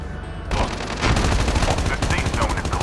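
Rapid automatic gunfire from the Call of Duty Mobile video game crackles in dense bursts, loud and continuous after a brief quiet start.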